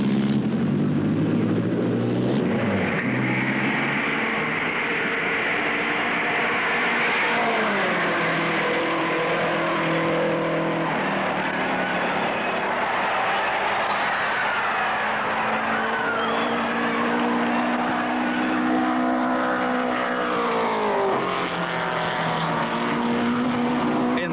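A race car laps the Indianapolis speedway in qualifying at about 150 mph, its engine a loud, steady high-pitched howl that shifts pitch as it goes through the corners, continuous and without any talk.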